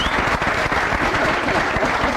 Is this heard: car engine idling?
no